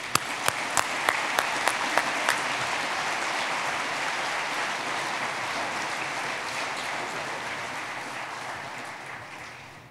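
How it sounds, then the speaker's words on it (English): A dinner audience at an awards banquet breaks into sustained applause, a few sharp individual claps leading into a broad, steady wash of clapping that holds at even loudness before trailing off at the end. "Please join me in a round of applause for our 2017 presenting sponsors."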